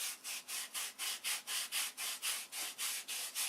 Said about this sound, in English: And now I'm going to sand them